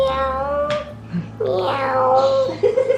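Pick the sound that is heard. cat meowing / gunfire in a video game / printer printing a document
cat meowing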